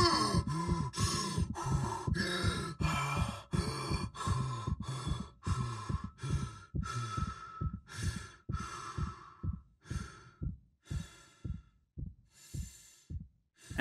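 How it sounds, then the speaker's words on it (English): The Dead Space Remake character Isaac catches his breath after oxygen loss, heavy gasping breaths that start fast and ragged, then slow and grow softer into a steadier rhythm. "you can expect to hear Isaac catch his breath as he recovers from a lack of oxygen"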